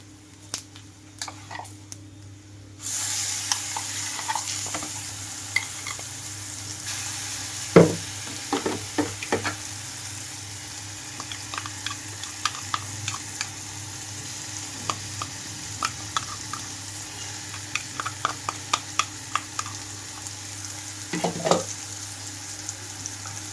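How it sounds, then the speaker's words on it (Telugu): Ground onion paste sizzles steadily in hot oil while a spoon scrapes and stirs through it with scattered clicks and taps, no voices. "ఇలా ఒకసారి కలిపేస్తున్నాను ఉల్లిపాయలు పచ్చి వేసాను కాబట్టి తాలింపులో వేయించుకోవాలి అంట"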